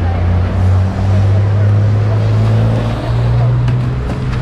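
An overturned semi-trailer truck is dragged away after a highway accident on the Fernão Dias, with a loud, steady low engine drone and rumble of the heavy towing vehicle close by, holding constant throughout.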